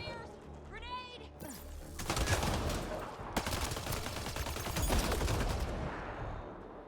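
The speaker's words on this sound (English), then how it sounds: "Cover your ears! Grenade!" Gunfire and a grenade blast in the Mass Effect Andromeda video game: bursts of rapid shots and booming impacts crowd together, loud and continuous, following a brief quieter moment with faint chirpy effects.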